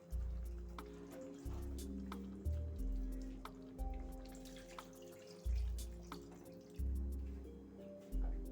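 Water splashes and drips into a pan of raw jackfruit (echor) curry in a village-style kitchen, in a series of short pouring bursts over a low steady background hum, with no talking.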